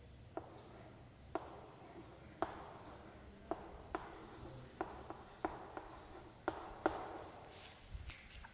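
Handwriting of an advertisement title, a series of crisp pen ticks and short scratches on paper at an irregular, unhurried pace, close and fairly quiet over a faint low hum.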